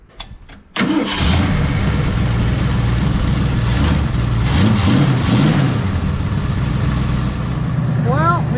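A car engine cranks briefly, catches, then settles into a steady, close idle that runs on loudly for several seconds. A voice speaks faintly over it toward the end.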